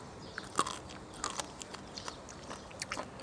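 Crunchy soy-pickled shellfish bitten and chewed up close, with a few sharp crisp bites and softer chewing clicks between them, fairly faint and with no talking.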